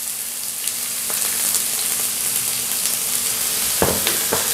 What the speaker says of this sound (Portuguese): Deixa refogando aqui por 1 minuto, 2.